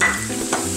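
Food frying in hot oil in a pan for egg drop soup, a steady close sizzle with light stirring noise running through the whole short stretch, alone without voices.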